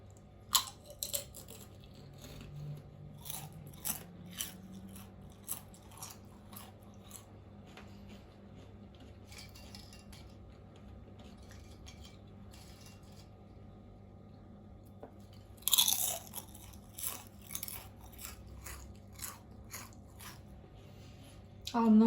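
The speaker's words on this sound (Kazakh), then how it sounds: "қазір ол қытырлап сынып кететін болады." Homemade Lays-style potato chips crunch crisply as someone bites and chews them. The quiet, rapid bursts of crackling come one after another, close up, with soft speech at times.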